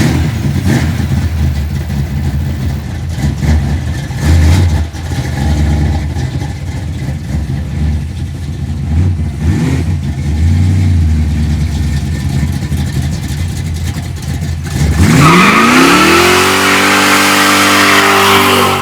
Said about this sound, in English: Dodge Dart GTS Pro Street small block Mopar, 200 horse nitrous, dual quads, manual valve.